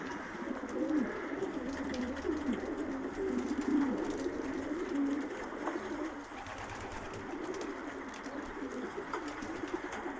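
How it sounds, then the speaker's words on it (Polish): Breeding pigeons coo on a loft roof, their soft, continuous throaty calls overlapping steadily throughout, close and moderately loud against a busy outdoor background. "Bardzo tu lubią towarzystwo gołębi rozpłodowych."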